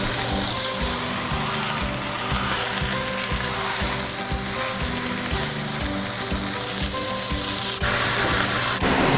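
A pork tenderloin sears in a hot pan, giving a loud, dense sizzle and crackle throughout, with faint scraping and clinks from kitchen utensils.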